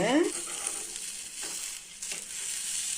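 Chutney omelette frying in a pan, a steady close sizzle and crackle running throughout with faint scraping stirs, no voices.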